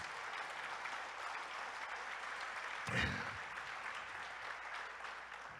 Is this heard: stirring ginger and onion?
no